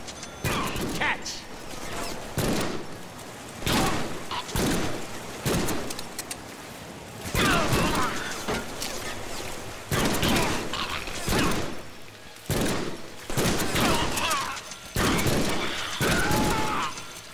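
Gunfire in the Deadpool video game, heard as repeated loud bursts of shots in clusters separated by short gaps, mixed with other game action sounds throughout.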